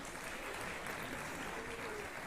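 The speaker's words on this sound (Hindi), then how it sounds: "एक बार जोरदार तालियां" A crowd applauds at an official ceremony with the Chief Minister, clapping heard fairly faint and steady over a brief stretch with some room noise.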